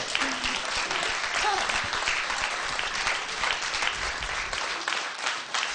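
Steady applause from a studio audience on an Italian comedy show, dense clapping continuing loud and even throughout, with some crowd noise mixed in.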